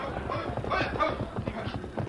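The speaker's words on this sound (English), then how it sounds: "Hey, somebody's riding in." A rider's horse approaches on a ranch, its hooves beating a quick, steady clip-clop that sounds fairly close, with faint voices underneath.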